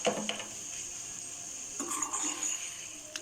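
A spoon stirs salt into fish curry (meen kulambu) in a cooking pot, giving soft scraping and light clinks over a steady background hiss, close by and with no talking.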